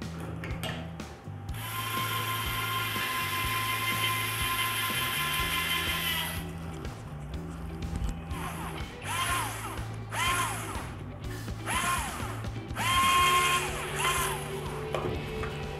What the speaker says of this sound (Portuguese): Vamos aplicar os parafusos de fixação do painel frontal.